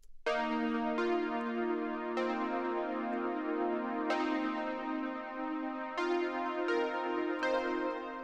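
A warm, sustained synth pad with tube saturation plays slow chords with a rich harmonic buzz, each new chord swelling in softly and ringing on, quiet and steady.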